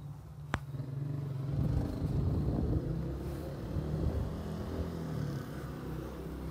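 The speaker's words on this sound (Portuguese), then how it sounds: "Barulho de moto chata." A motorcycle engine drones past at a distance, swelling and then fading, with wind noise buffeting the microphone.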